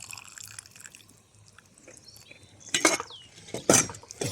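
Vegetable juice is poured into a Petromax Dutch oven holding a pork loin, giving soft trickling and dripping followed by a few louder clattering, splashing knocks of metal.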